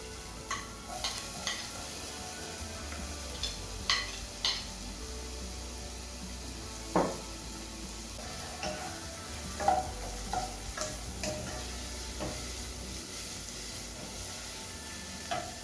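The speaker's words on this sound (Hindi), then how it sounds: "अब हमने इसके अंदर प्याज डालना है।" Chopped onions frying in a tablespoon of oil in a pan for desi-style noodles, a quiet steady sizzle broken by scattered soft scrapes and taps of a spoon stirring.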